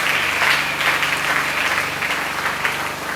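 A church congregation applauds and acclaims the Lord during a sermon: dense, steady clapping from a large crowd fills the whole stretch, close and loud, with no speech over it.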